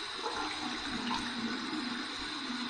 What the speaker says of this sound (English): Let's just go to the warm side here, and we'll fill that sink up